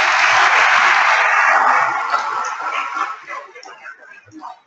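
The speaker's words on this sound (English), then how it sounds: "Let's give Paul another big round of applause." Audience applauding a speaker at a success workshop, a loud full round of clapping that thins out after about two seconds into scattered claps.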